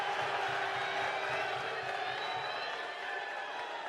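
A large crowd at a UFC 299 press conference in Miami roars continuously, a dense wash of cheering and shouting heard from within the room, loud and sustained throughout.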